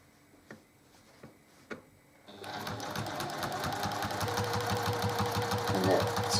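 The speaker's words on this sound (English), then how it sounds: "when you get to the point where you're going to pivot your machine, that your needle is down," A sewing machine sews, starting after a few soft clicks with a fast, steady run of needle strokes that continues close and loud to the end.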